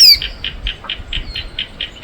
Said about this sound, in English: This salvia is absolutely alive with birds.